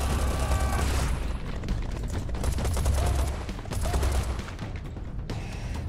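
Heavy continuous gunfire in the shooter Serious Sam 4, loud rapid shots layered with booming impacts, sustained throughout with brief dips in intensity.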